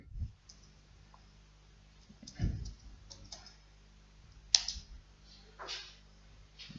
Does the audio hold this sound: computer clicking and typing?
yes